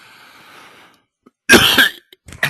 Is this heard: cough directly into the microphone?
yes